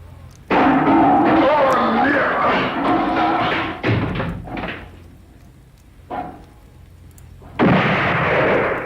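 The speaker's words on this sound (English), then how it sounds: "3 small bombs of light had exploded in the darkness seconds before." Three small flash bombs go off in darkness as a radio drama effect: sudden loud thudding bursts with rumbling roar, one long blast followed by shorter ones, close and heavy, with no voices.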